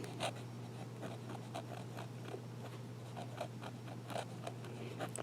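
A Kaweco or Delike fountain pen with a medium nib writing in reverse on paper gives faint, close, rhythmic scratchy strokes over a low steady hum.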